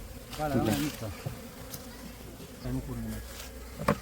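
Honeybees swarm in and around a plastic can, giving a close, droning buzz that swells and fades in waves, with a faint tap near the end.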